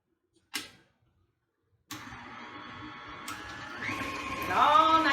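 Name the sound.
electric mixer mixing chocolate chip cookie dough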